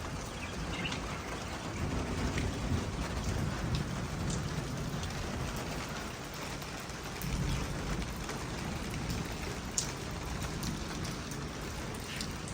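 Rain falling steadily outdoors in a village, a dense continuous patter on surfaces with a faint low rumble underneath and no voices.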